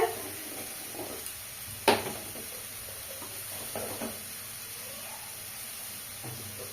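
Yardlong beans and potatoes sizzle softly in a hot pan, with a few sharp clinks and scrapes of stirring scattered through the quiet frying hiss.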